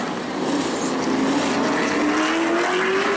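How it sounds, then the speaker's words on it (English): A modified race car engine revs at a steady high pitch that slowly climbs, loud and sustained over a broad roar of track noise at New Smyrna before a restart. "revving the engine"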